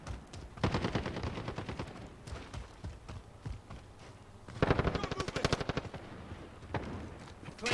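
Kilo assault rifle fire in a first-person shooter game, rapid automatic bursts in two main volleys with scattered single shots between, punchy and close, with no talk over it.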